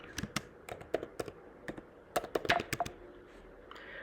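Rapid clicks of typing on a computer keyboard come in quick irregular bursts with brief pauses, fairly close and clear, with no talking over them.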